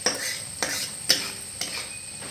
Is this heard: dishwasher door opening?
no